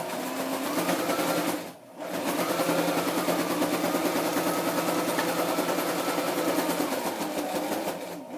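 Sewing machine stitching through a paper scrapbook layout, a steady close mechanical whir with rapid needle pulses that briefly stops for a moment before running on continuously.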